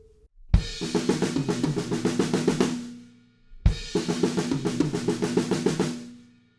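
A punk-style drum fill is played twice in a row. Each time it is a fast run of evenly spaced snare and tom hits that ends by ringing out, loud and close with no voices.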